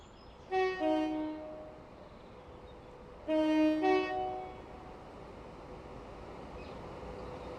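A Pendolino electric train in the Train Sim World 5 game sounds two loud two-tone horn blasts about three seconds apart over a steady low running rumble, with no talk.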